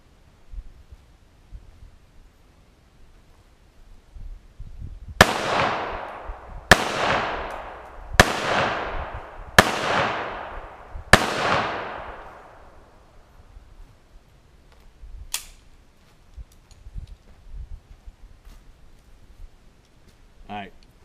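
A .45 ACP pistol fires five loud, sharp shots at a backyard air conditioner, spaced roughly a second and a half apart, each with a ringing decay, followed after a pause by one fainter crack.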